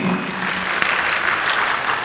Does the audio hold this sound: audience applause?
yes